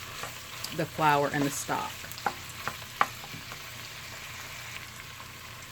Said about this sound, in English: I just kind of want to brown that a little bit